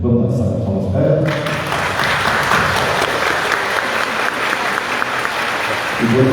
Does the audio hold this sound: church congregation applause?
yes